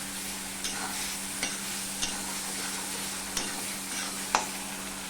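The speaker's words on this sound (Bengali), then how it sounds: "নিরামিষ মাছের ডিমগুলো আমি ভেজে নেব" Paneer pieces shaped as vegetarian fish eggs fry in hot oil with a continuous bright sizzle, broken by a few sharp scraping clicks of stirring, close and with no speech.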